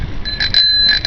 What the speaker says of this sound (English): I got a bell on my bike.